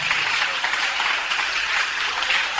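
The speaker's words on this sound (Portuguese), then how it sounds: "Vamos aplaudir, amados, mas aplauda bem forte" A church congregation applauds loudly during a Bible study service, a dense and steady wash of many hands clapping together that holds at full strength from start to finish.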